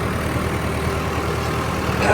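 A Sonalika 60 tractor engine runs at a steady, loud drone with a low rumbling pulse, continuous and close throughout, rising slightly at the end.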